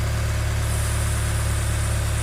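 A Honda S2000 AP1 engine idles steadily with a low, even hum and slight vibration, continuous and unbroken throughout.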